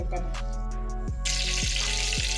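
Ghee sizzles steadily in a hot pan for sweet pongal, a loud continuous hiss that swells suddenly partway through, as if something went in, with a low steady hum beneath.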